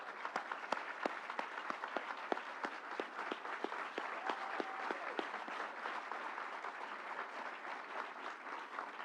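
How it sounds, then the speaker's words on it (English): An audience on its feet gives a governor a sustained round of applause, dense clapping from a large crowd, fairly distant and even, with a few sharper individual claps standing out. "I think we need to give the governor another standing round of applause"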